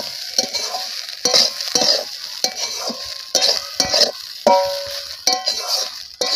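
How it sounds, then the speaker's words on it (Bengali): Cabbage fries in a pan for a vegetarian bhaji while a utensil stirs it, loud sizzling punctuated by repeated scraping and clinking strokes against the pan at an irregular rhythm. "এবার একটু নেড়ে চেড়ে নেব"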